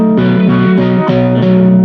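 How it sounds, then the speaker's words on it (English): A 2022 Gibson Les Paul R9 electric guitar plays sustained, slightly overdriven chords through a 1968 Fender Bandmaster amp with reverb and an old Mesa Boogie cabinet with Celestion speakers, the chords changing every half second or so. "you're hearing this guitar through a 1968 Fender Bandmaster"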